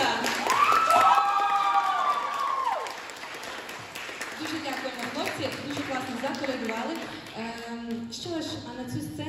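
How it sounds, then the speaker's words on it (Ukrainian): Audience applause at a Christmas student hall show, a steady crowd of clapping that carries on through the clip while a presenter speaks over it and music plays. "Ще оплесків для Аксіоса."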